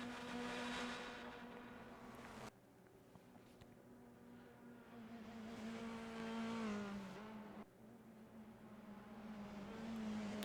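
Race car engines in the RENNSPORT racing video game at the Nordschleife during a front-wheel-drive series race, a steady high engine drone rising and falling through gear changes with abrupt shifts, loud and unbroken, with no voices.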